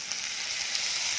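Pad Thai sauce hitting a hot pan, giving a steady, bright sizzle that holds evenly throughout without pause, close and fairly loud with no voices over it.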